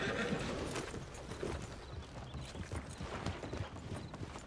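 Horse hooves clip-clop in a quick, steady rhythm, with a brief whinny amid a busy Red Dead game soundscape. Voices talk faintly in the background.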